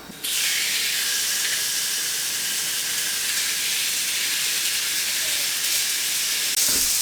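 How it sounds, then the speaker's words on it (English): Steaks hit a pan of smoking-hot oil and sear with a loud, steady, close hiss that starts abruptly and continues unbroken throughout. "So that's nice and hot. I think you can see the smoke coming off it, so we'll pop the steaks on."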